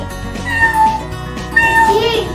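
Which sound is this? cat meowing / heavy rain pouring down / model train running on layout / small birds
cat meowing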